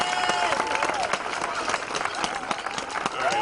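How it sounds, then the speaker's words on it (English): A rally crowd for Daniel Prude claps and cheers for a speaker coming to the mic. Dense, close applause runs throughout, mixed with shouting voices. "Give him a round of applause."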